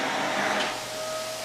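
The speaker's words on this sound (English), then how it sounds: "Mammy's over there riding her vacuum." Household vacuum cleaner running in a kitchen, a steady whining motor hum with a thin tonal whistle, moderately loud and continuous, slightly swelling then easing.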